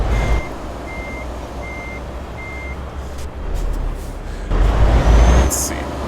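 A truck backing a trailer in Euro Truck Simulator 2 gives four evenly spaced reversing beeps over a low engine rumble, followed by a louder engine surge and a brief hiss.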